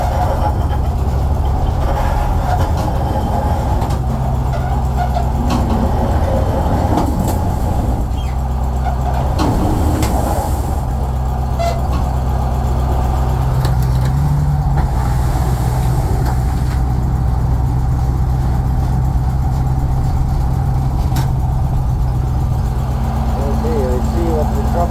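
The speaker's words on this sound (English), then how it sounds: "Testing the brakes." A Bombardier vehicle on a brake test run gives off a steady, loud engine rumble and road drone throughout, with occasional knocks and faint hissing, and people's voices come and go over it.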